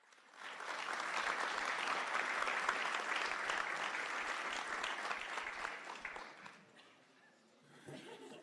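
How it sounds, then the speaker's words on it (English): An audience at a town board meeting gives a round of applause, a swell of clapping that holds for several seconds and then fades, followed by a bit of talk. "So if we just give her a round of applause"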